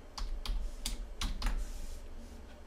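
Typing on a computer keyboard at a desk: five or six distinct key clicks in an uneven rhythm over a steady low background hum, close and fairly quiet.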